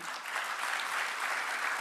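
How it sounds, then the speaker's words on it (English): Steady, dense applause from a large audience at a gem and jewelry industry awards event, sustained and even throughout with no talk on top. "A big round of applause for you."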